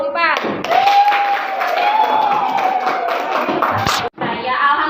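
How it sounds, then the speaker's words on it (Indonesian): A classroom of students clapping for group 4, a loud continuous patter of hands with a teacher's voice speaking over it, briefly cut off near the end before the clapping resumes. "tepuk tangan untuk kelompok 4"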